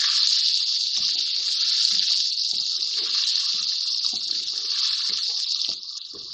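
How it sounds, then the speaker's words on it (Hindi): Tomatoes sizzling and frying in a pan for Punjabi gajar matar aloo sabzi, a steady, loud hiss that runs throughout and eases slightly near the end. "टमाटर डाल के थोड़ा सा भूनेंगे इसको।"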